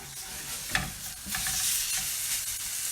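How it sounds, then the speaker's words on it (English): Burgers and onion frying on a hot indoor griddle, a steady close crackling sizzle with a few sharper pops as food is flipped, no talking. "I'm now going to pop on the onion. Give the burgers a flip."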